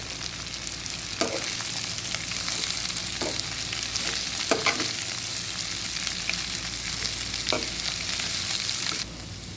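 Shredded cabbage and onions fry in a pan with a constant loud sizzle, broken every couple of seconds by brief scraping knocks from a spoon as it is stirred.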